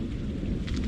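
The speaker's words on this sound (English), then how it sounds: "Can hear that thunder rolling." A summer thunderstorm rumbles low and continuous beneath steady rainfall, with a brief brighter burst of rain spatter near the end; no one speaks.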